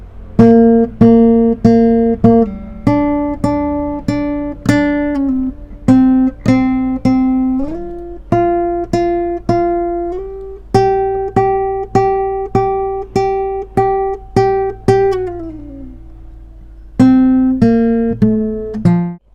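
A single guitar picks out the melody of a song, each note plucked cleanly and decaying, in a steady rhythm with a few short pauses.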